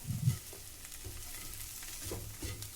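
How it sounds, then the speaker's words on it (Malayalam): Capsicum and coriander sauté in a pan, a soft continuous sizzle with a few stirring scrapes and knocks, close and fairly quiet. "ഇനി ഇതെല്ലാം കൂടി ഒന്ന് സോട്ടാക്കിയതിന് ശേഷം"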